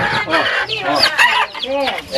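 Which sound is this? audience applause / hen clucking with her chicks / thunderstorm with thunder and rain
hen clucking with her chicks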